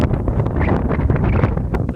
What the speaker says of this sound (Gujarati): પવન જુઓ અત્યારે